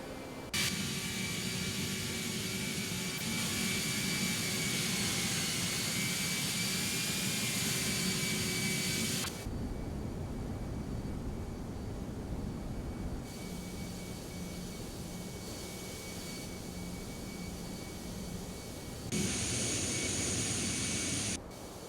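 Jet engines of an Airbus A319 in the X-Plane 12 flight simulator roar loudly and steadily through a takeoff run, a broad continuous rush with a high whine that eases and later surges again.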